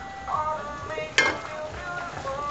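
Bulalo, a Filipino beef shank soup, simmers in a pot with a soft steady bubbling, and a brief sharp clink of a utensil or lid comes near the middle of the clip.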